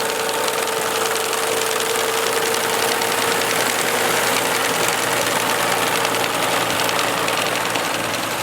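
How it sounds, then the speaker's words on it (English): A vintage Morris tractor engine runs steadily with a Bamford mower mounted underneath at a hay and harvest show, giving a continuous loud, close drone with a rapid knocking pulse. "Again, Morris with a Bamford mower underneath"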